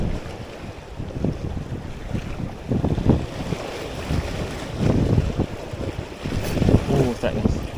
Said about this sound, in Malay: Angin kuat dah guys.